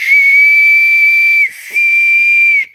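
A cheap whistle from an estate sale is blown in two long, shrill, steady blasts with a breathy hiss, loud and close, separated by a brief pause.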